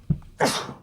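A single sharp sneeze, close and sudden, preceded by a brief intake of breath.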